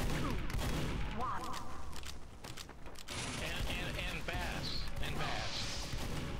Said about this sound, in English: Everybody shoot bullets at the closed doors.